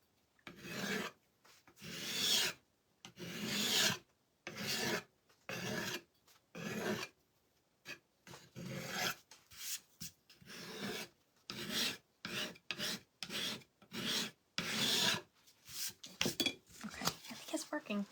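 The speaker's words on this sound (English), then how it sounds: "I'm just gonna see if it'll scrape, just to make it look kind of chippy." A scraper rasps repeatedly across waxed, painted Dollar Tree wood to distress it, in rhythmic, close scraping strokes separated by short pauses.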